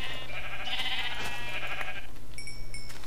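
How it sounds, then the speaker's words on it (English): Sheep in Minecraft bleat in a couple of wavering, nasal cries up close, followed by a brief high tonal blip near the end, over a low steady background hum. "Sheep, I should probably kill these and use them to get some wool"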